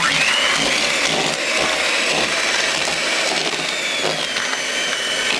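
Electric mixer beating butter into batter for a lemon bombe, giving a loud, continuous, even motor whirr with gritty churning throughout, close and alone with no voices.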